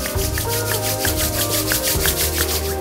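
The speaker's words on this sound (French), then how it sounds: "On frotte. Mettez votre attention dans vos mains." Palms rub briskly together during a morning yoga routine, a close, rhythmic swishing friction of about five strokes per second over a low steady background.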